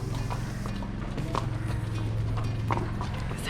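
Horse hooves clip-clop steadily on the ground while a rider sits high on the horse in Zanzibar, a continuous rhythmic walk under low outdoor rumble, fairly near and moderately loud.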